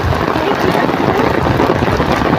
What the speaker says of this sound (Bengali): এই যে লাল বাজার, তো বৃষ্টি হচ্ছে অনেক